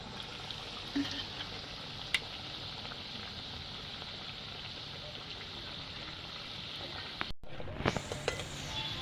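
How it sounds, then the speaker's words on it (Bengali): Chandra kala sweets fry in hot oil with a steady, dense sizzle that holds throughout, broken by a sudden brief dropout near the end before some clattering resumes. "আবারও দিয়ে দেবো তেলের মধ্যে মিষ্টিগুলো"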